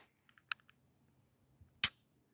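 A crisp mechanical click of the trigger resetting on a custom S&W Shield 9mm pistol, with a few light ticks first and then one sharp, close click standing alone in quiet.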